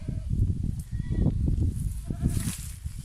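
Goats bleat on a high mountain summer pasture in Turkey, several wavering cries rising over a steady outdoor rumble and wind, fairly close and continuing throughout.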